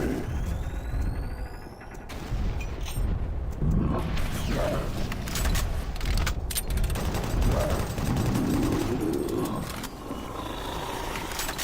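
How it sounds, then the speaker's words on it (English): Grenade blasts and gunfire in the Doom 3 video game, loud and dense, with rapid bursts of shots, booming explosions and growling monster roars layered over each other. "This is a good spot to use my grenades."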